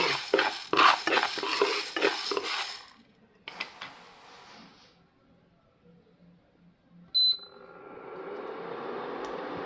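Moong dal (green gram) dry-roasting in a pan while being stirred: a few seconds of busy scraping and rattling, then quieter gaps with a short clink, fading to a soft hiss.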